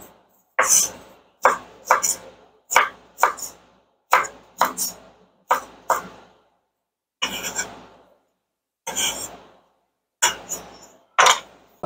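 A knife chops vegetables on a cutting board in a home kitchen, landing in short bursts of two or three sharp, close knocks separated by brief pauses, about a dozen strokes heard alone with no talking.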